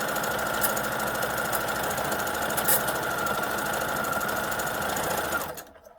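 A sewing machine runs steadily, stitching quilt fabric in a fast continuous mechanical whir that stops abruptly near the end; no one talks.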